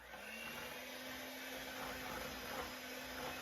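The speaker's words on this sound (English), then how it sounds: "So you put your mixer on a low speed and then you're gonna add in about 1/4 of a cup at a time, mix it in and continue adding." An electric mixer running at low speed, mixing sourdough cake batter for a peach trifle, a steady continuous whir with a faint hum, close and unbroken throughout.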